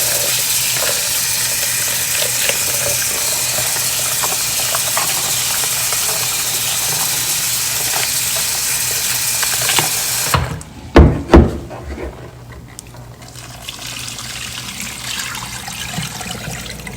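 Water runs steadily over beans in a bowl as they are rinsed to loosen and remove their skins. A few sharp knocks and splashes follow near the end, then a quieter trickle.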